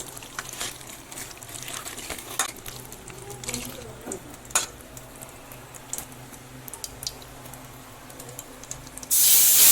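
Topshe fish and potatoes frying in hot oil with cumin. A quiet, steady crackle and hiss runs under the clip, then ends in a sudden, loud, close sizzle.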